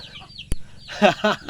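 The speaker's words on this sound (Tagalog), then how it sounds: "Papakain ng manok. Oh, mga manok oh." Small native Tagalog chickens cluck in short, close bursts after a sharp tap, with faint background noise around them.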